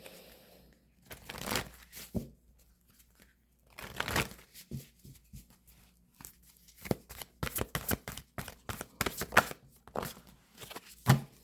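Soul care oracle cards being shuffled by hand, bursts of crisp riffling and slapping in irregular clusters, close and fairly quiet, with short pauses between runs.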